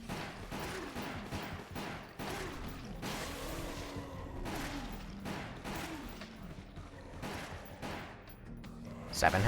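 Gunshots in Resident Evil: The Umbrella Chronicles: repeated sharp shots and blasts scattered through the scene, with a voice talking over them.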